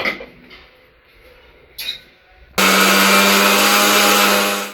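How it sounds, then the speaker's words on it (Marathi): A kitchen mixer grinder starts up abruptly and grinds grated coconut at a loud, steady whine, running continuously after a few soft kitchen clatters. "आपलं दुसरं खोबरं गरम होते तोपर्यंत आई हे मिक्सरला लावून घेतील बारीक।"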